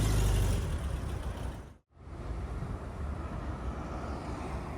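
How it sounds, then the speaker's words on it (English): A Volkswagen Beetle-derived car engine driving, a steady rumbling drone with a brief dropout partway through, then continuing as a warm even hum. "The round warm sound of the engine is very reminiscent of the Volkswagen Beetle it is derived from."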